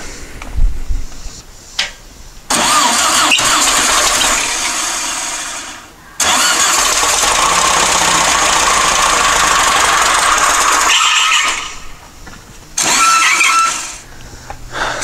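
A dune buggy engine cranks in long loud bursts, turning over repeatedly and struggling to start, with brief quiet gaps between the attempts.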